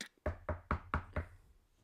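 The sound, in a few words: knocking with knuckles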